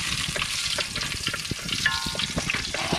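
Ginger sautéing in hot oil in a pan sizzles steadily and close, with stirring scrapes and crackles breaking through, and no talking.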